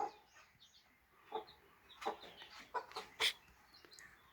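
Soft, scattered clucks and short chirps from a mother hen with three-day-old chicks in a quiet outdoor mountain-village setting, with brief sharper calls breaking the calm at intervals.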